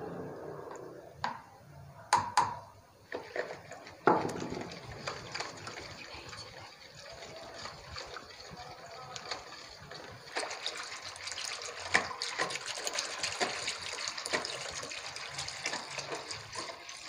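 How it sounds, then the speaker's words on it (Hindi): Water pours from a jug into a gram flour and yogurt mixture for kadhi, a fairly steady trickling and splashing stream with a few sharp knocks of the container near the start. "मैंने पूरा एक जग पानी इसमें ले लिया है।"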